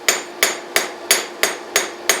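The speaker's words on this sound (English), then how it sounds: "it's beneficial to kind of be able to use a half-faced hammer blow off of that front edge" Half-faced hammer blows on the front edge of a Harbor Freight cast steel Doyle anvil: seven sharp, ringing metallic strikes at a steady, even rhythm, loud and close with brief decays, no talk.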